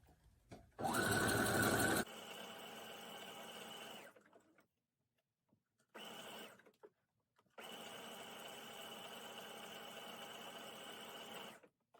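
A sewing machine stitches lace onto a dolman top, running close and loud in several bursts separated by short pauses.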